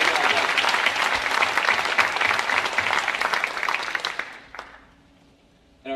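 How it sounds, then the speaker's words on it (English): An academic awards ceremony crowd applauds the award recipients. The clapping is full and sustained for about four seconds, then thins out and stops, leaving brief quiet and a faint voice at the end. "Another round of applause."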